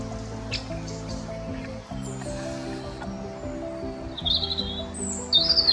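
Great tit fledglings give high, thin chirps and short call bursts in woodland, scattered and moderately near, the loudest near the end, over a steady bed of low background sound.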